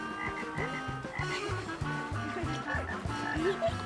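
Several frogs croaking in rapid overlapping rhythm, a busy chorus of deep pulsed calls close by with higher chirps mixed in, no talk.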